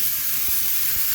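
Asparagus added to a hot pan beside a steak, giving a loud, steady sizzle and hiss of frying close up, with no voices.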